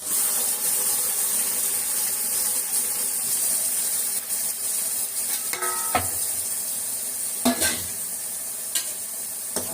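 A ground coconut, onion and tomato masala goes into a hot pan for mutton kuzhambu, with a steady close sizzle and stirring scrapes throughout and a couple of louder splattering bursts near the end.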